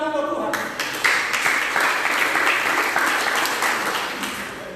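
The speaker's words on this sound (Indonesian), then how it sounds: "Tepuk tangan buat Tuhan" An Indonesian Sunday worship congregation bursts into a full wave of clapping after a brief spoken moment, the dense applause holding strong for several seconds before slowly easing, with scattered voices in the room.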